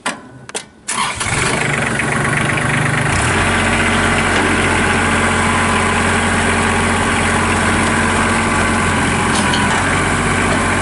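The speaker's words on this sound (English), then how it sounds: "We're going to go ahead and we'll fire this tractor up." A 2012 Kubota L3800 compact tractor loader backhoe is cranked with a couple of short starter bursts, then catches and settles into a loud, steady diesel idle with a deep low rumble close by.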